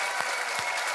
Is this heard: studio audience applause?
yes